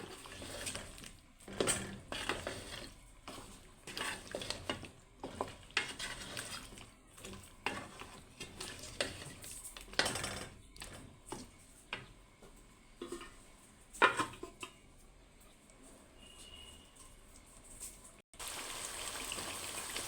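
Country chicken with spices is stirred in a pot, giving faint, irregular scrapes and clicks of a utensil against the metal over a soft background hiss.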